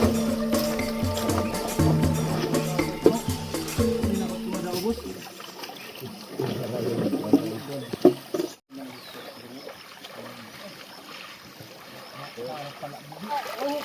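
Gold-bearing sand and mud slosh and trickle as they are washed in water, an uneven, nearby swirling and splashing that carries on throughout with voices in the background.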